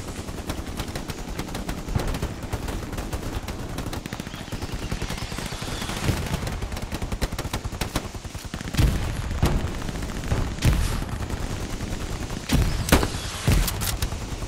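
Kar98k bolt-action rifle fire in a squad-based war shooter, a steady battle bed of distant gunfire punctuated by several sharp, loud close shots spaced a second or two apart, no talking.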